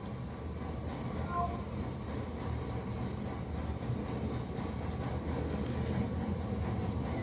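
A train in Red Dead Redemption 2, played on Google Stadia, makes a low, faint, continuous rumble that holds steady throughout.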